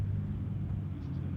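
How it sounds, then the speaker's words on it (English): A low, steady rumble of cars passing on a nearby road during an outdoor beep baseball championship game, a continuous engine and tyre drone with no talk during it. "They're going to take time for a couple of noisy cars running by."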